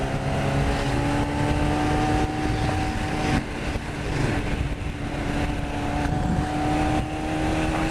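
A motorcycle engine drones steadily and loudly while the rider accelerates out of bends on a country road, its tone rising and falling with the throttle over constant wind rush.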